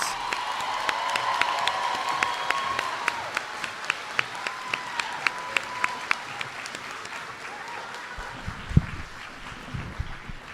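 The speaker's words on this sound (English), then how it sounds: "if we can get one more round of applause for our now ninth graders." A school audience applauds newly promoted ninth graders at a middle school farewell ceremony, with sustained clapping, scattered cheers and whoops, and sharp individual claps standing out near the microphone, a few louder bursts coming late.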